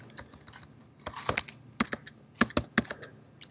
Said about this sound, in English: I've been doing a lot of typing in here